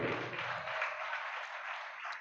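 A church audience claps at a sermon, a brief burst of dense applause that stays steady and then tapers slightly, heard close with nothing else over it.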